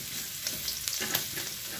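Garlic and ground pork frying in a pan, a close, steady sizzle with scraping stir strokes and brief crackling bursts, no talking.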